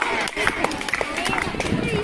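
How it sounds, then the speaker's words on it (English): An audience at a school English language club claps for a student, a steady patter of hand claps running throughout with voices and other sounds mixed in. "Give a big clap for Lata."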